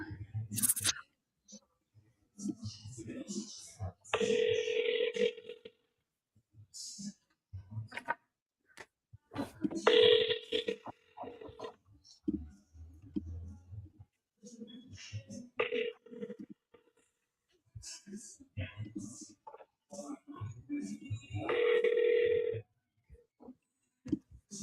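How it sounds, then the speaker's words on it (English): An outgoing telephone call rings out with repeated ringback tones, about four bursts spaced several seconds apart, heard between stretches of quiet talking and background noise. "Come on, Ron, pick up the phone."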